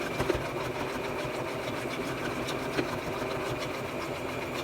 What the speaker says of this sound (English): Let me see if my machine can even sew through all of this first of all.